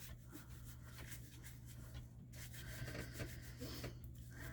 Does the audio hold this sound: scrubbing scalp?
yes